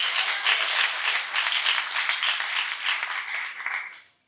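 Congregation clapping during a church prayer service with a pastor, a dense, even wash of many hands held steady for several seconds before tapering off abruptly.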